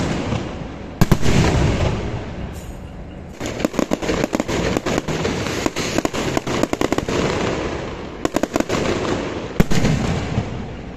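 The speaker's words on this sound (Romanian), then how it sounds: "La miezul nopții, invitații au fost încântați de un foc de artificii." Fireworks set off at midnight during a wedding party, a loud dense barrage of rapid bangs, crackles and bursts firing in clustered volleys over a constant rumbling roar, with no speech.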